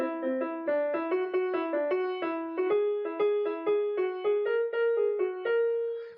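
A short piano tune played note by note on the keys, each note struck cleanly in a steady, even rhythm, close and clear with no one talking.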